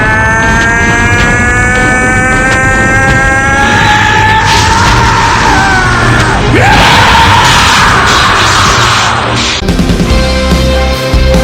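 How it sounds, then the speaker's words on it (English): Goku lets out a loud, ferocious scream while powering up to Super Saiyan 3, a sustained, rising yell that roars over a heavy, surging wall of energy noise. "he let out a ferocious scream"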